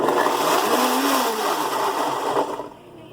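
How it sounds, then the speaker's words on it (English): A blender whirs steadily while chopping pork chop sauce ingredients with tamarind, a loud motor drone that shifts pitch as the contents churn and then cuts off near the end. "I'm gonna go ahead and blend this."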